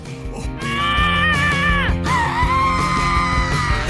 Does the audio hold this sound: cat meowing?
no